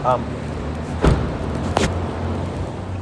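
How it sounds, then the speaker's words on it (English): A car door thumps shut near the start and again about two seconds later, as someone climbs out of a car with a loud air conditioner droning nearby. "I'm getting out of my car."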